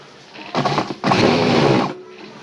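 A sewing machine stitches a pocket onto a ladies' pant, running in two close, loud bursts, a short run followed by a longer steady whir, with no talking.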